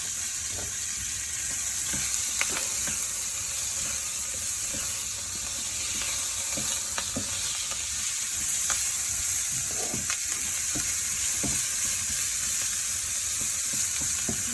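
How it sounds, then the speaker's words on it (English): Corn tossed in a hot pan for a taco corn stew gives a steady close sizzle and hiss, broken by repeated scraping and clacking strokes as it is moved around, with no talking. "we're just going to toss this around just for a minute"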